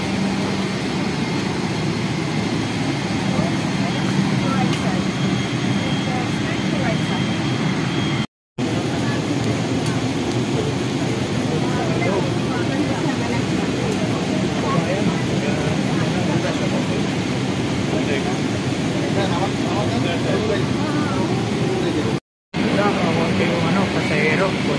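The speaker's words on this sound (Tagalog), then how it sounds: "dito na tayo sa aeroplano" Inside an airplane cabin during boarding for a flight to Jeddah, a constant low engine and ventilation roar fills the space while people talk throughout.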